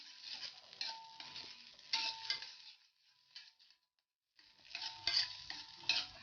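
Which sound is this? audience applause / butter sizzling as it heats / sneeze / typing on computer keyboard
butter sizzling as it heats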